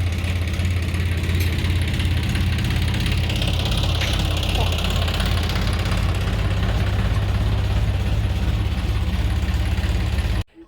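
A John Deere 5405 tractor engine idles steadily with a deep, even low rumble that continues throughout, then cuts off abruptly at the end.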